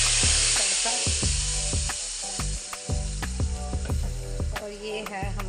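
Hot oil sizzles loudly as tempering hits a pot of kadhi, crackling and spattering steadily, with a few clinks of stirring.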